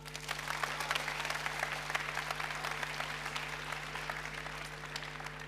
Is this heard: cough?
no